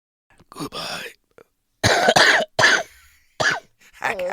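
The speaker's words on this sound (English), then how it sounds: "Cough" Several harsh coughs in separate bursts, close and loud with short silences between them, recorded in a podcast studio.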